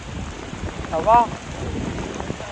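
Rain falls at the Taj Mahal as a steady broadband hiss mixed with wind buffeting on the microphone. A voice briefly speaks partway through.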